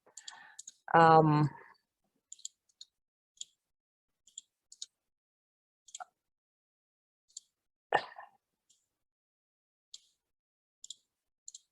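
Crisp mouse clicks sound in short isolated bursts and quick pairs, scattered across a quiet background, with a few brief spoken sounds among them.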